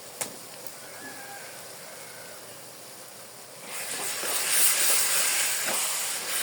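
Ginger garlic paste and spices hit hot oil with fried onions in the pan: a quiet background hiss jumps to a louder, bright sizzle partway through and keeps crackling to the end.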